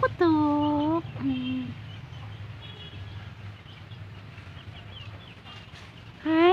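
Chickens and chicks cluck and call at dinner time on a small farm, a rising bird call opening loud and near, then softer clucks over low background hum before another burst of calling at the end.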